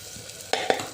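Tomatoes, potatoes and spices sautéing for tur dal khichdi, a soft sizzle broken by two quick scraping stirs of a spoon against the pan, close and brief.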